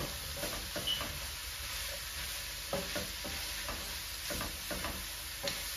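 Green peas go into a frying keema biryani mixture in a pan, giving a soft, steady sizzle broken by scattered scraping stir strokes at close range.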